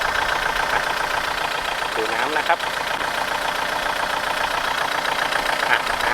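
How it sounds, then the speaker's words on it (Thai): Four-cylinder engine of a four-wheel-drive Kubota tractor idling steadily at close range, a constant low running hum with someone talking over it throughout. "ตัวนี้เป็นเครื่องยนต์4สูบนะครับโววินขับเคลื่อน4ล้อนะครับ"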